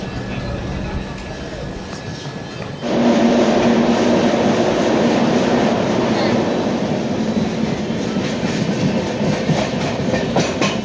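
Trichy to Howrah superfast express train at Vriddhachalam Junction, a loud steady rumble of rolling coaches that swells after a few seconds, with rhythmic wheel clatter continuing throughout.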